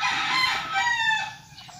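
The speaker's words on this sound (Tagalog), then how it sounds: "Ang ingay ng manok, as you can see." A rooster crows once, loud and close, its drawn-out call sliding down at the end, with no other sounds around it.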